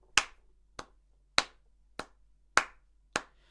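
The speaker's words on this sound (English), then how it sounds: "if I was to clap that first example" Six crisp hand claps beat out a steady musical rhythm, evenly spaced with every other clap landing louder, each sharp and dry against silence.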